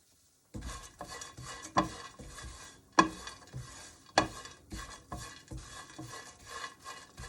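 Dry fruit mix with mango powder and black pepper stirred and roasted in a pan, a steady scraping, rasping shuffle broken by sharper clinks of the spoon against metal at an uneven rhythm, close and moderately loud, no talk.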